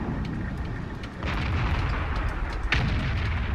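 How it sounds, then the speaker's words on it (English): Artillery firing in the World of Tanks video game, during a T37 light tank match: two booming blasts over continuous battle rumble, the second sharper and louder, with no voices. "Our artillery fires"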